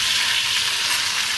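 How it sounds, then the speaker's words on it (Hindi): Cauliflower and potato curry sizzles steadily in hot oil while being stirred, a loud, even frying hiss with no talking. "गोभी और आलू की सब्ज़ी डाल दी"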